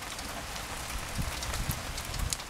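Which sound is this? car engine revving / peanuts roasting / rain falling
rain falling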